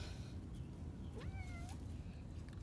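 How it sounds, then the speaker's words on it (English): A single cat meows once, a short rising-falling call in a garden, set against a steady low rumble of outdoor background noise. "The cat came to help me make breakfast or lunch."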